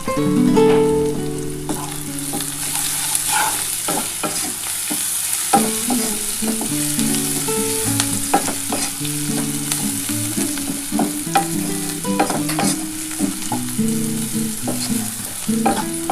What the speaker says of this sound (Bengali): দেখো আমার পেঁয়াজটা কিন্তু ভাজা ভাজা হয়ে এসছে